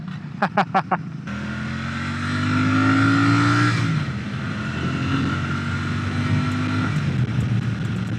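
A Royal Enfield Super Meteor 650 motorcycle accelerates hard on an open road after a few short blips, its engine note rising and swelling close by, then settling into a steady loud drone with wind noise.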